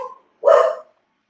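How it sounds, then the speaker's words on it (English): A single dog bark at the door, loud and close, stands alone after a brief softer yelp. "They're going to keep barking until he opens the door"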